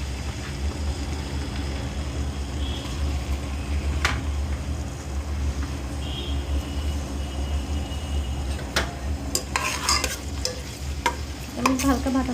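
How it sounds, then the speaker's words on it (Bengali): Onions and garam masala fry and sizzle in hot oil for chicken biryani, with a steady close crackle and occasional stirring scrapes of a spoon against the pot. "পেঁয়াজটা আমি হালকা বাদামি করে ভেজে নেব"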